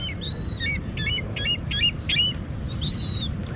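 Several seagulls call in a series of sharp, repeated cries while being fed McDonald's food, heard over a steady outdoor rumble with no talking.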